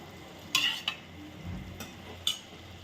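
Spoon scraping and clinking against a cooking pan while stirring cooked peas and fenugreek leaves for methi matar malai, a few sharp metallic taps over a quiet, low simmering background.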